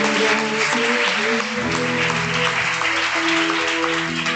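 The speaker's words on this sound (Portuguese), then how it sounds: "Ao Deus soberano e eterno vamos aplaudir e glorificar." A church congregation at a Sunday morning service applauds steadily and loudly throughout, a dense continuous clapping with sustained organ or keyboard tones underneath.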